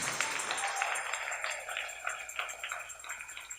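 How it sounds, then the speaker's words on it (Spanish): A church congregation applauding for the King during a Spanish-language sermon, a steady patter of clapping from many hands at moderate distance, fading slightly toward the end. "Dele ese aplauso al Rey"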